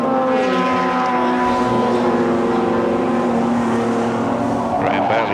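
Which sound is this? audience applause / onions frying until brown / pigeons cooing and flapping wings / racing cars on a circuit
racing cars on a circuit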